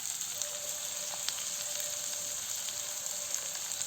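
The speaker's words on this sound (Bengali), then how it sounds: "এবার এটা 5 মিনিটের মতন হালকা ভাজা ভাজা করে নিতে হবে।" Ingredients for pea ghugni frying in a pan, a continuous close sizzle with small crackles and pops and no talking.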